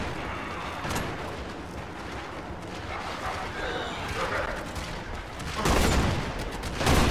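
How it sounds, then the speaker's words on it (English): Gunfire crackles through a Warframe firefight in fast, overlapping bursts, getting louder and denser toward the end, while players talk over the shooting. "What are you guys shooting?"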